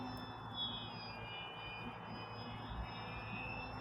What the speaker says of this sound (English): It's also a fantastic inverted flying RC airplane.